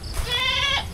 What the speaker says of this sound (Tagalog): Ang ating mga kambing.